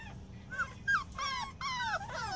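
Young puppies, about five weeks old, whimpering in a series of thin, rising whines and yips, close and fairly quiet, with no talk over them.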